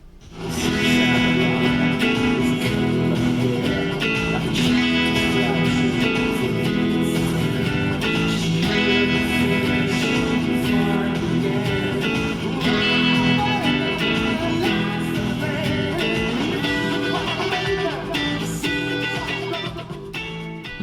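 Electric guitar playing the main part of a song, a dense steady strummed rhythm with full backing running continuously and loudly for about twenty seconds.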